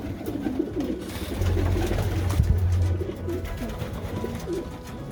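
A racing pigeon coos in a loft, giving low, soft, repeated rolling coos close by over quiet fluttering and background bird sounds.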